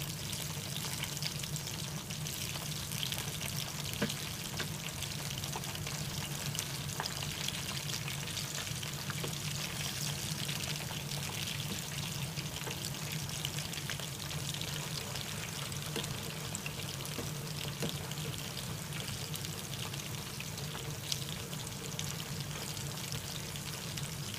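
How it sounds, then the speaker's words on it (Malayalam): Chicken kebab pieces fry in hot oil, giving a continuous, even, crackling sizzle that holds steady and close throughout with no voices. "ഇപ്പൊ നമ്മുടെ ചിക്കൻ കബാബ് ഫ്രൈ ആയി വന്നിട്ടുണ്ട് നമുക്കിതിനെ എണ്ണയിൽ നിന്ന് മാറ്റാം"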